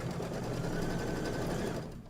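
A Reno sewing machine stitches a Kimberbell autumn quilt with a fast, steady mechanical whir and needle chatter, close and even, then slows toward a stop at the end.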